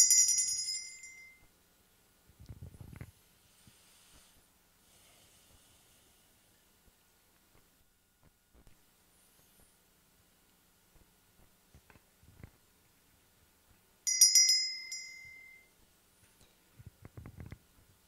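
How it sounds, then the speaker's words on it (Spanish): A small bell rings twice to open and close a meditation at an Alcoholics Anonymous meeting, a bright ringing strike at the start and another about fourteen seconds later, with near silence and faint rustling between. "Al primer toque de campana iniciamos y al segundo terminamos."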